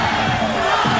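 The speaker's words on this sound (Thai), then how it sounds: "กองเชียร์นี่เฮแล้วนะครับ" Fans roar at a Muay Thai fight between Saiyok Pumpanmuang and Sudsakorn Sor Klinmee, a dense, sustained crowd cheer filling a brief moment.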